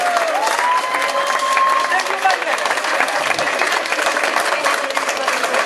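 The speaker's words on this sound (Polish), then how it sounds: "Jeszcze raz wielkie brawa." An audience in an amphitheatre applauds at a ski jumping bib-number ceremony in Wisła, with sustained dense clapping and some cheering throughout, and a voice over a loudspeaker talking over it.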